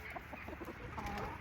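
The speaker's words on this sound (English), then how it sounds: "you hear my chickens" Backyard chickens clucking in a low, irregular patter of short soft calls, several birds murmuring at moderate distance for a second and a half with no speech.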